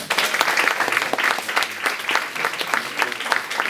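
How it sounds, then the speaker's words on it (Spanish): A room of listeners at a university talk breaks into loud applause, many hands clapping in a dense, lively burst with sharp individual claps standing out, close and sustained for several seconds. "es un enorme aplauso"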